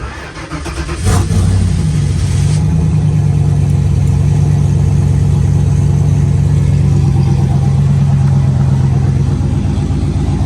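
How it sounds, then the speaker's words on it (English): Ford Fairmont engine after days sitting in the rain, cranking briefly and catching with a loud rev, then settling into a steady, rumbling idle that continues close and loud. "Nice little cold start, if you want to call that."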